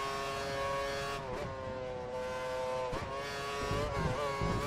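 Formula One cars in a racing video game whine along at high revs, a dense engine drone with gear-shift dips as cars jostle on the Australian circuit.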